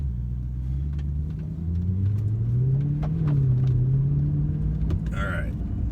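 Steady engine drone from a 2013 Mercedes C63 AMG while driving, a low rumbling note that rises and falls gently with throttle, close and continuous throughout, with faint background noise but no clear talk.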